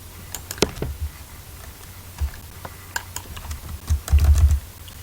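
Keys clatter on a computer keyboard while code is written for an Excel spreadsheet: a scattered run of soft clicks with a few bursts of quicker, louder presses near the end, close and alone without talk.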